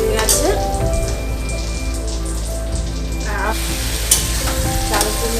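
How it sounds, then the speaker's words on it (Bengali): Ghugni, spiced peas, heats in a pan with a loud continuous sizzle and crackle, joined by stirring scrapes and clinks. "এদিকে ঘুগনিটা একটু গরম বসিয়েছিলাম"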